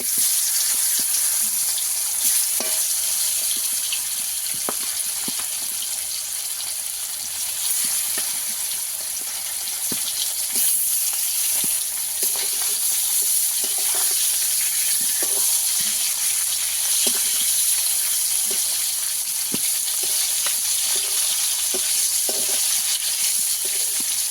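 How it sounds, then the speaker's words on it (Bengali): Fish fresh from a pond fries in a pan, giving a continuous hissing sizzle with scattered small pops and crackles throughout, steady and fairly close, with no voices. "বাকি মাছগুলো ভেজে নেব"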